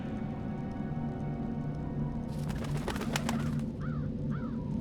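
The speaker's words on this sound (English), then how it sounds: "I'm a bird. Crow's the name." Crow calls from the video game Dreamfall: The Longest Journey: two short, rising caws sound close together near the end, after a burst of rustling flutter, over a steady ambient drone.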